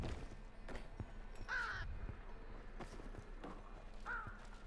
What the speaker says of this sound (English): I hear you too, Crow.